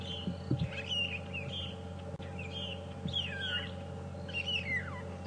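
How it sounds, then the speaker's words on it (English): A small bird that eats buffalo thorn berries calls in repeated high chirps and short warbled phrases at moderate distance during a morning safari drive at Djuma Game Reserve, over a steady low vehicle engine hum. "Go away, bird eating buffalo thorn berries."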